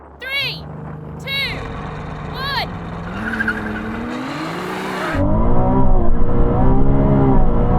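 Ferrari supercars, a 296 GTB, SF90 and 812 Superfast, roar off the line in a drag race with wheelspin, tyres squealing over rising engine revs, loud and close, with brief voices over the start.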